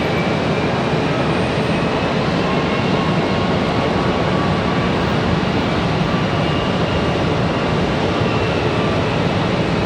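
A Frontier Airbus A319 jet departing from Charlotte Douglas International, a loud, steady, broadband engine roar that holds without letup throughout, close and unbroken.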